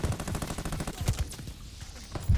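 Rapid bursts from an MG42 light machine gun in Call of Duty: Vanguard, a fast rattling stream of loud shots that pauses briefly, then resumes with a final heavy crack.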